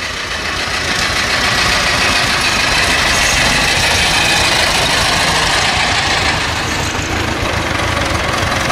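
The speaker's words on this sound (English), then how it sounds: "Love a tractor run." Tractor engines idling at a tractor run on a road, a dense, steady low rumble with rough knocking texture, close and loud for the whole stretch, no talking.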